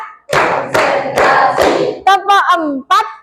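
A classroom of children claps in bursts of a counted rhythm, broad loud slaps at first, followed by children's voices chanting.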